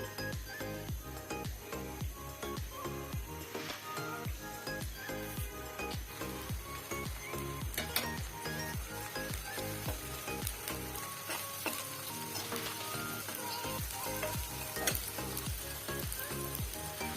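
Onions hit hot mustard oil in a frying pan for a loitta shutki curry, a loud, dense sizzle that crackles steadily throughout, with occasional stirring scrapes and no voices.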